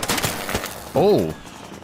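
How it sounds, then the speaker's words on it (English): An enemy's shield cracks in the ARC Raiders video game: a brief bright ringing, warbling burst midway, after some scattered gameplay noise and faint voices. "I look like I cracked his shield. That's what that is."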